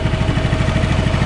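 A Honda Vario carbureted scooter engine, just serviced with a PE 28 carburetor, idles close up with a steady, even low pulsing throb.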